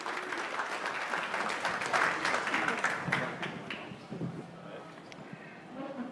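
A conference audience gives steady applause for two speakers being introduced, loudest in the first few seconds and tapering off toward the end, with some voices mixed in.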